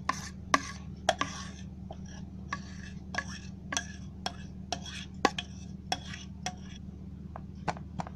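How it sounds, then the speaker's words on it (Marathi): A spoon scrapes eggless vanilla sponge cake batter out of a bowl, producing sharp irregular clinks and scrapes against the bowl over a low steady hum. "सर्व मिश्रण आहे ना असं चमच्याने काढून घ्यायचं"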